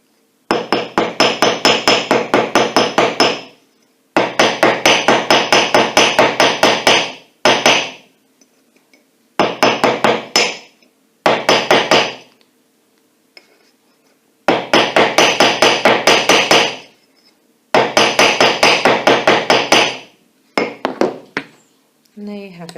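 Rapid, sharp metallic taps of a small hammer flattening the ends of colour coated craft wire, struck in quick bursts of many even blows separated by short pauses.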